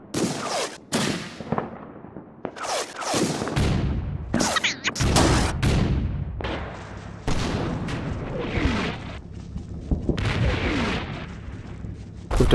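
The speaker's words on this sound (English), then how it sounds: "Once again we can use the mortar to take it out." Mortar fire in the Combat Mission war game: a rapid series of sharp, loud blasts and booms close by, some bunched together, others spaced a second or two apart, with crackling gunfire and rumbling echoes between them.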